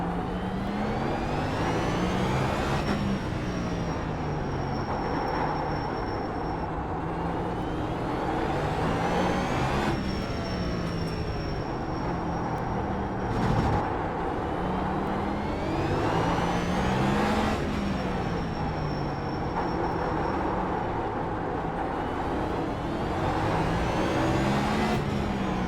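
A race car engine in the iRacing game at the LA Coliseum circuit revs up and down through repeated laps, rising and falling in a steady cycle of acceleration and braking, loud and continuous without talk.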